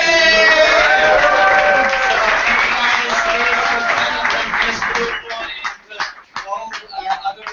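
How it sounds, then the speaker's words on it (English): Audience clapping and cheering for sponsors at the final presentations of Startup Weekend Trento, loud sustained applause for about five seconds that thins into scattered claps and room noise. "let's cheer all together with the local sponsors"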